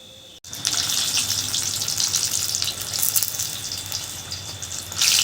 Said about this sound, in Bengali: এবারে নাস্তাগুলো আমি একটু নেড়ে দেবো, নেড়ে চেড়ে মিডিয়াম তেল গরমে